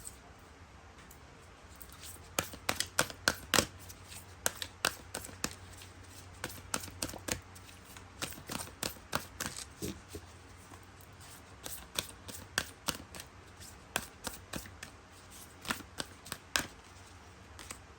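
A tarot card deck being shuffled close up, with rapid irregular riffles and flicks of cards over a quiet background and no talk.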